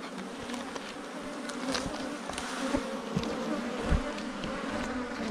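A giant bee swarm on a farm hums in a dense, continuous buzz, steady and close, with individual bees briefly zipping louder past the mic.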